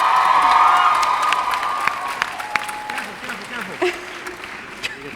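A convention panel audience for a Comic-Con TV series panel cheers, screams and applauds loudly, a dense crowd roar that slowly thins, with scattered whoops and claps continuing toward the end.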